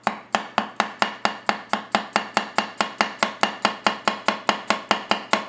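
A Goko 240mm gyuto knife chops fast through a carrot on a board, a steady, rapid series of about twenty-five crisp, evenly spaced knocks, close and clear with nothing else heard.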